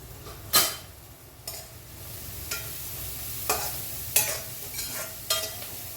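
Garlic frying in a pan for rajma curry, a soft steady sizzle broken by a handful of sharp scraping stirs about once a second. Quiet and close, with no talking.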